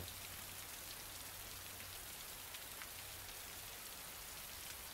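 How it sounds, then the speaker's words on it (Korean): Steady rain falls at a film location, a soft, even hiss with faint scattered drops running the whole time, fairly quiet and with no voices. "오늘 또 마침 비가 오네요."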